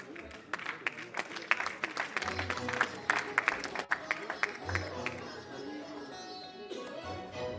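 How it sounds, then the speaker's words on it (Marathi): Live audience claps for dignitaries on stage at a Maharashtra kirtan competition event, with bursts of clapping up front and a crowd murmur, plus some voices and music as it trails off. "जोरदार टाळ्या सर्व मान्यवरांसाठी वाजवूया"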